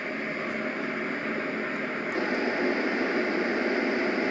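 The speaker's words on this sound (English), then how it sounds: "I'll go through the five different fan sounds." Steady fan-style white noise from a Roffie N600 white noise machine, a continuous even hiss and whoosh with a slight shift in tone about halfway through, constant and close with no talking.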